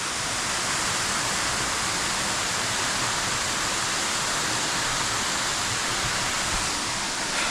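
Bambarakanda waterfall in Sri Lanka roars in a constant, broad hiss of falling water, close and loud with no breaks, filling the whole scene without any voices.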